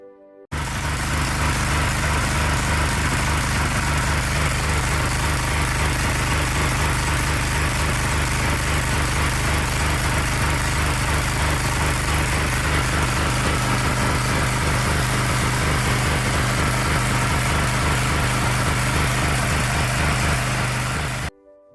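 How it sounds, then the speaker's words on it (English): A portable generator engine with an unstable idle runs loud and close throughout, rattling with a rough, pulsing drone that wavers instead of holding steady, then cuts off at the end. "There, as that generator is rattling, it's oscillating."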